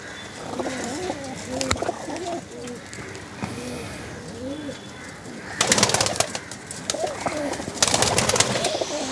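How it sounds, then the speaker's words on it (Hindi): Pigeons coo steadily inside a loft cage, their low rolling calls repeating throughout while someone talks over them; a couple of brief louder bursts of flapping or rustling break in near the end. "आज मैं मेरे केज के अंदर खड़ा हूँ और आप लोगों को दो तीन कबूतरों का शौक कराऊंगा"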